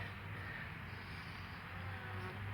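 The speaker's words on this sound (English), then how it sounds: "The bees are doing their jobs and always working" Bees buzzing around an exposed hive during a relocation, a steady close drone with no voices.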